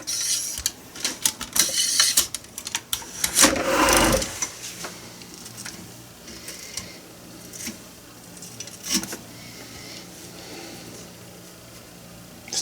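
A cleaning brush is dragged through a gun barrel from a full cleaning kit, giving a rhythmic run of scraping, rattling strokes that peak in one dense burst, then settle into fainter rubbing.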